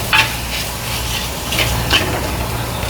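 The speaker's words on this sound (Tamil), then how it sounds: "நல்லா வதங்க விடுறோம்." Ingredients for crab rasam sauté in a pan, with a moderate sizzle under several scraping stirs from a spoon, close and fairly loud.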